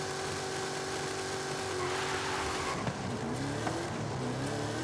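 A car engine in the Forza Horizon 5 racing game on a rally run, droning steadily throughout with rising and falling revs and a dip partway through, loud and close with no talking.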